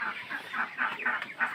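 Broiler chickens about 30 days old, fed Paragon and Adarsha feed, cluck on a poultry farm in a steady run of soft, overlapping pulses at moderate loudness, with no talk over them.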